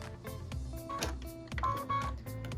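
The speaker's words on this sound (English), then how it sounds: "What we're stitching now is the tack down line for piece number 4" A sewing machine runs steadily, stitching the tack-down line on a quilt block, with rapid mechanical needle clatter and a pulsing motor hum that shifts slightly as the fabric moves.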